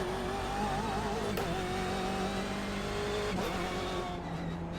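A race car in the iRacing simulator drives at Road America with a damaged engine, giving a loud continuous droning hum whose pitch wavers and dips at shifts, with no voices.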